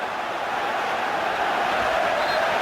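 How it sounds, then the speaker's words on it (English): Manchester City fans in a football stadium during a Premier League match against Aston Villa, a broad, steady roar of crowd voices rising slightly toward the end. "crowd who are critical and certainly in a bad mood throughout most of the first half have found their voices again"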